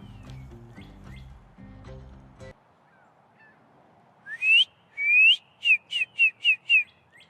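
A person whistling an imitation of a cardinal's call: a few rising slurred notes, then a run of five or six quick repeated whistles, close and clear, following a short stretch of muted music.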